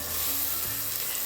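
Precooked peas tipped into a hot pan of chitranna, with a steady close sizzle of frying and a brief soft stir or thump partway through.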